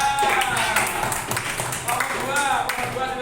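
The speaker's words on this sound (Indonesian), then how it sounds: "Tepuk tangan buat kelompok 3." Applause from a classroom of students for a presenting group, dense clapping running the full length over a steady background, close and moderately loud with some voices mixed in.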